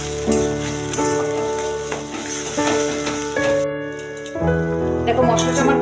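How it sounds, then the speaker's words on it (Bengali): Masala with a spoonful of ginger paste frying in a kadai for koraishutir kofta: a broad, steady sizzle with occasional stirring rattles, up close, mixed with a voice and a tonal background. "দিয়ে দেবো 1 চামচ আদা বাটা, ভেজে নেব"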